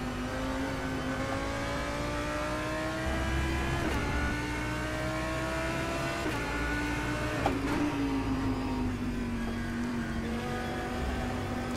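A 2019 Audi R8 GT3 race car engine in rFactor 2 at the Hockenheimring in the rain, droning steadily and rising in pitch through gears with brief shift dips, continuous and close.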